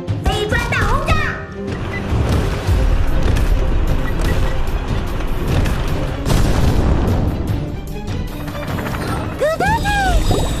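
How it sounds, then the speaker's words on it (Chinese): Cartoon explosions from a flying-brick bombardment boom repeatedly in quick succession, loud and dense, with a voice speaking over the blasts and bright whooshing effects near the end. "不准靠近，飞砖大轰炸"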